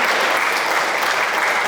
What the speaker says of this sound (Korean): 우리 박수로 한번 우리 조현진 집사님,